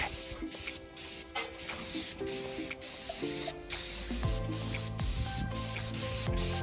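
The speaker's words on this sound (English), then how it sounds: "And sprayer that I'll be using is a Graco 490 Pro." A Graco 490 Pro airless paint sprayer spraying an exterior soffit gives a loud, steady hiss broken into repeated on-off bursts, with the pump's lower mechanical hum running beneath.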